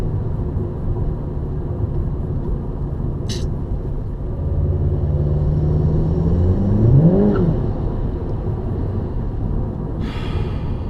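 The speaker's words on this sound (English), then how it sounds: "Damn, clutch is slipping already." A tuned 2017 Volkswagen MK7 GTI engine drones steadily, then rises in a revving sweep as the clutch slips, with the pitch climbing and falling back; a brief sharp noise punctuates the steady hum.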